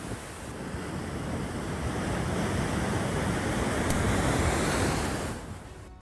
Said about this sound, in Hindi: बाढ़ ने लोगों की मुसीबतें बढ़ा दी हैं। नदियां उफान पर हैं, सड़कें जलमग्न हो चुकी हैं।